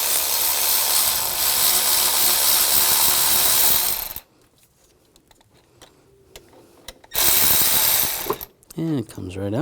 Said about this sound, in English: Using a 16mm socket, you want to loosen the bolt.